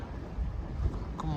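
A sailboat's motor runs steadily as the boat leaves a Greek island anchorage near Arki, Fournoi and Samos. Its low, continuous rumble is mixed with wind buffeting the microphone.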